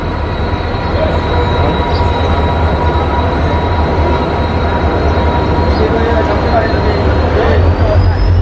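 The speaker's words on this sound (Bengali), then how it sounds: "আর দেখুন ট্রেন আই গেছে অলরেডি" Kanchanjunga Express passenger train at a railway station platform, a steady loud rumble and hum of rail and station noise throughout, with faint voices and no distinct clatter.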